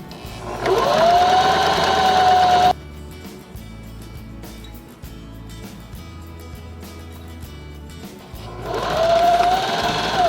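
A sewing machine stitches quilted table runner pieces in two loud, steady bursts with a rising motor whine, separated by a few seconds of quieter room noise.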